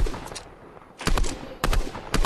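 Gunfire in the video game Fortnite, several loud bursts of rapid shots separated by short pauses, close and punchy.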